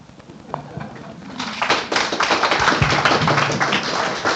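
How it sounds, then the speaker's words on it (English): Audience applause at a town hall forum for Glen Griffin, starting as a few scattered claps and building into steady clapping from the room. "Another round of applause for Glen Griffin"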